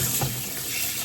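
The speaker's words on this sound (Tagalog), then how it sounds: "hugasan natin mabuti uli yung ating pork" Tap water runs steadily into a sink while raw pork is rinsed, a close, even gushing stream with no talking.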